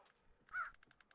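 A crow in the Minecraft Twilight Forest modpack gives one loud caw followed by a quick series of softer clipped calls, heard alone.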